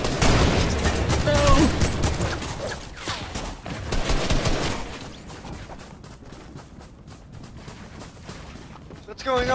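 Dense gunfire from a chaotic Fortnite match, with rapid bursts and shots piling up loudly, then thinning into scattered distant pops, with voices shouting over it.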